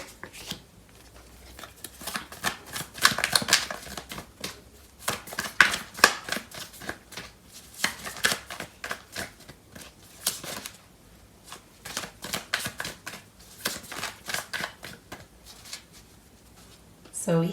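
Tarot cards being shuffled by hand, giving repeated bursts of riffling and flicking paper in an irregular rhythm with short pauses between, close and moderately loud, and no speech.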